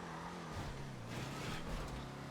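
Vapid Clique Wagon, a 1950s Ford-style car in GTA, revving its engine loudly and steadily during a wheelie attempt, a continuous close engine drone with rising and falling pitch.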